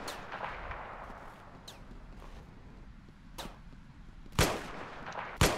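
Musket fire in the video game Ravenfield: a handful of sharp, isolated shots crack out over a low battlefield rumble, spaced unevenly, with two louder reports near the end.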